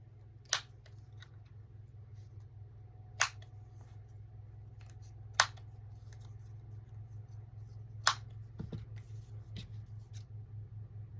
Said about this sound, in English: And we'll snip that about right here.